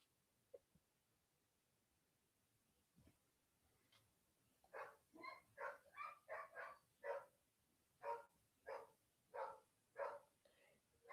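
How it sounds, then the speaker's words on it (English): Dogs bark in a rapid series of about a dozen sharp yelps, distant and moderately faint, after a few seconds of near silence. "they were barking"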